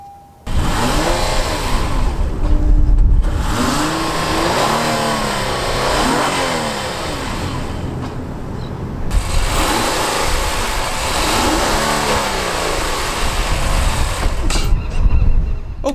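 A 3.5-liter naturally aspirated V6 engine in a 2017 Acura RLX cranks and fires up, then revs repeatedly, rising and falling in loud bursts before settling toward idle.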